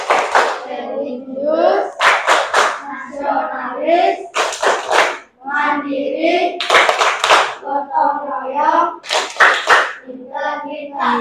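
A classroom of pupils performs the PPK clap chant, with repeated groups of sharp, loud hand claps alternating with chanted words in a steady rhythm.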